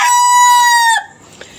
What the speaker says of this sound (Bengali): আর এই যে দেখেন এই মোরগগুলা যে এর ভিতরে আটকায় রাখছি,